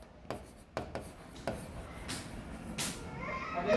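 Marker or chalk writing a statement on a classroom board during an accounts lesson, with short scratchy strokes at irregular intervals and a steady low room background.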